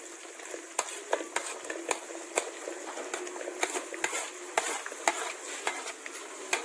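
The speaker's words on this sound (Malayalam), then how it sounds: "അപ്പോൾ ആ ഉള്ളി ചേർക്കാം ഇതിലേക്ക്." Half a kilo of chopped onions is stirred in a frying pan for a spicy goat head curry. Soft sizzling runs under regular, fairly quiet spoon clicks and scrapes against the pan.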